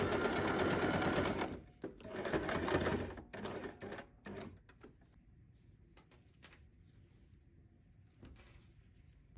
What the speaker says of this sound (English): sew the pinned areas